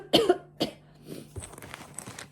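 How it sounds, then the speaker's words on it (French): A woman coughs indoors in a few sharp, close bursts, two quick ones followed by a third, then a softer rasping throat-clearing tail with no talking. "J'arrête pas de tousser depuis tout à l'heure."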